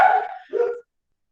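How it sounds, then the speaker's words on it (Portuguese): A small dog barks indoors, two quick yapping barks with a brief gap between them, close and fairly loud, with no voices. "E eu vou colocar o meu cachorrinho agora ali para fora, tá bom?"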